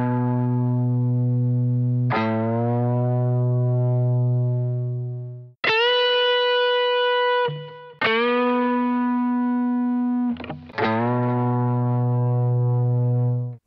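Electric guitar bends on the sixth string, played with the index finger, ring out loud and alone with effects processing; a few sustained, sliding notes each rise in pitch and hold before the next is picked.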